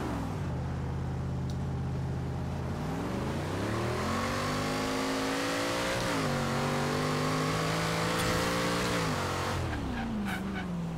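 A heavy 1970 Chevy Chevelle V8 muscle car engine in Forza Horizon 3 roars steadily, its pitch rising and dropping through gear shifts as it accelerates, loud and continuous with no talking.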